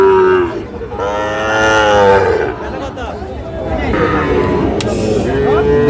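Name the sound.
Sahiwal bull calf mooing at cattle market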